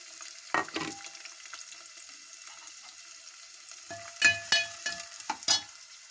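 Onion pieces frying in a pan with cumin and green chillies for a drumstick and tomato curry: a soft steady sizzle with two bursts of louder crackling and stirring scrapes near the start and end.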